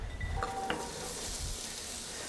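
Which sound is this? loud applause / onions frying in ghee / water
onions frying in ghee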